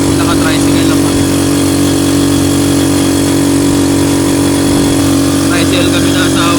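A motorized tricycle's engine drones steadily and loudly while riding to a resort, with a constant mid-pitched hum and a voice talking over it.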